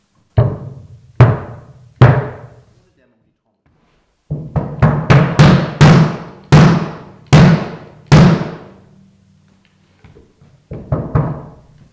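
A bass drum with its heads tensioned further, kicked about a dozen times alone in irregular groups, close and loud, each low thump ringing out with noticeable sustain before fading.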